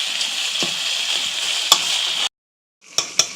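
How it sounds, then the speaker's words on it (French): Raw and canned tomatoes simmering in a pan for a smoked fish and pumpkin seed dish, a soft steady sizzle broken by a brief silence and a few light clicks of a utensil. "Et puis nous laissons encore mijoter un tout petit peu."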